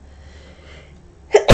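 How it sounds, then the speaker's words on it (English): A single sharp human sneeze bursts out at the end after a quiet room pause, close and loud. "Excuse me, I'm going to sneeze."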